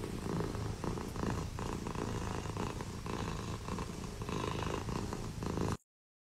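A cat purrs close up, a continuous rumbling drone that holds steady for about six seconds and then cuts off abruptly.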